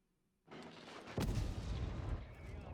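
A tank shell strikes the upper armor plate of a tank in a tank battle game and ricochets off, a sharp heavy impact boom that rises out of quiet and leaves a rumbling tail of battle noise.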